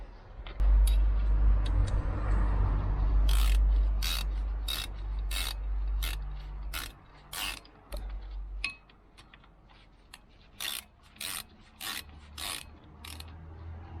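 Bolts on a Renault Clio 2 brake disc are snugged down with a ratchet, giving a run of sharp, evenly spaced clicks in bursts, close and clear, after a low rumbling start.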